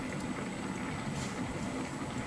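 Water at a rolling boil in a home cooking pot, a steady dense bubbling hiss that stays even and close throughout, with no talking.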